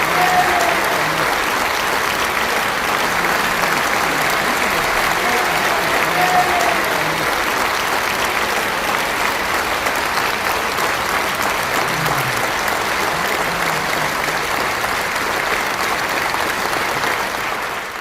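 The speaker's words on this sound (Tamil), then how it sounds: "நீங்கள் அனைவரும் எழுந்து நின்று உங்களுடைய கரகோஷத்தை தர வேண்டும்" A standing audience at the opening ceremony of a new pilgrim rest house in Sigra, Kashi, claps steadily and evenly for a long stretch, a dense uniform ovation with a faint voice or two underneath.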